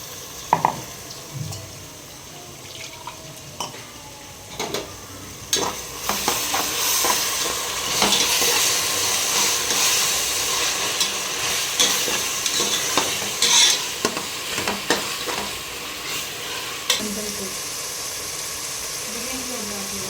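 Ginger, garlic and mint fry and sizzle in a pan for biryani, with a steady hiss and repeated scrapes and clinks of a stirring spoon throughout.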